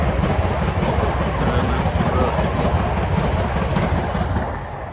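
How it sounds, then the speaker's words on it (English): A train passes close by as a steady loud rumble with clattering wheels, holding for several seconds before it starts to fade at the end, with no talking over it. "Wait for the train."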